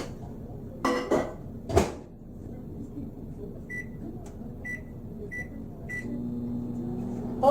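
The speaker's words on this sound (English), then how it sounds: "let me get this in the microwave for 15 seconds and see what we get" A microwave oven heats a stick of butter: a few clunks and taps of the door and buttons come first, then a series of short, evenly spaced beeps over a low running hum, quiet and close.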